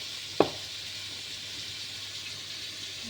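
Cooking oil sizzling in a frying pan, a steady airy hiss throughout, with one sharp click near the start.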